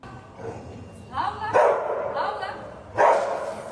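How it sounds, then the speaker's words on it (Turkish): A cadaver search dog barks inside a shopping mall: a few sharp, loud barks come in bursts with short gaps between them, and a voice can be heard in the background. "AVM'ye hassas burunlu kadavra köpeği getirildi ama şüpheliden iz yoktu."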